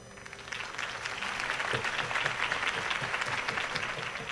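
Dense crowd applause with cheering in the video game Telltale Batman, steady and loud from start to finish, many hands clapping at once.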